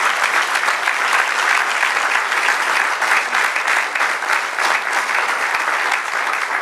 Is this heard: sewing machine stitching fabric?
no